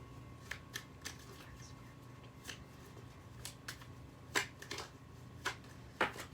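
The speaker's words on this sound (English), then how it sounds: "Okay, let's see what other cards come out." Tarot cards are shuffled in quick, crisp riffling bursts, close and fairly quiet, with short pauses between shuffles against a soft background hum.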